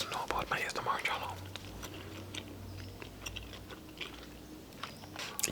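Gum chewing for ASMR, twenty pieces at once, wet close-up chews and smacks near the mic, with whispering over them throughout.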